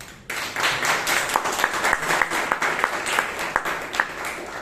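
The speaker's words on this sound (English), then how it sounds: "Let's give you a round of applause." A Toastmasters meeting audience in Bangalore claps steadily for several seconds, a dense wash of applause with a few sharper individual claps standing out near the microphone.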